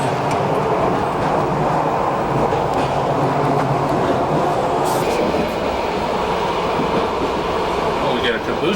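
A passenger train rolls through Alpine scenery in Austria and Switzerland, heard from aboard as a steady rumbling ride with rhythmic wheel clatter and occasional squeaks, continuous and fairly loud throughout.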